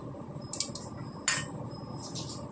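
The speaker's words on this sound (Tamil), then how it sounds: "இப்போ வந்து ஒரு கடாயை வச்சுக்கின்னு அதில் வந்து கொஞ்சமாக எண்ணெய் ஊற்றிக்கணும்" A kadai pan clinks down on a stovetop, with a few light metallic taps and clinks near the mic before oil is poured in for khichdi, over a steady low kitchen hum.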